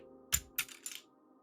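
A small keycap clicks onto a Glorious GMMK2 96% keyboard, making three quick, light plastic taps in a row, close and crisp against near silence.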